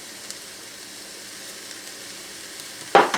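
Sliced mushrooms sauté in a pan, a faint, steady sizzle running quietly underneath until a sharp, louder scrape or clatter breaks in near the end.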